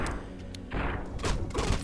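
A quick burst of several gunshots from marksman carbines in the video game Fallout New Vegas, sharp loud cracks in close succession with no talking.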